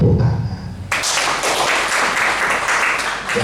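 Congregation applauding during an evening Mandarin prayer service, a steady wash of clapping starting abruptly after a brief quieter moment and sustained at full loudness to the end.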